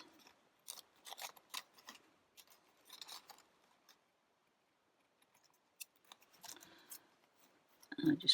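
Scissors make a series of quiet, close snips while cutting a piece from a papercraft advent kit, in short irregular clusters separated by pauses.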